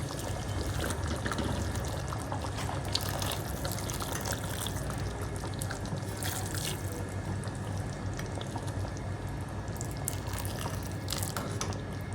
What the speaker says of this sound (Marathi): मी यामध्ये थोडंसं गरम पाणी टाकणार आहे.